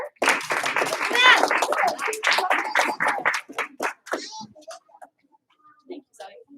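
A class gives a karate student a couple of rhythmic claps, the sharp hand claps mixed in with a leader's talking, then the room quiets.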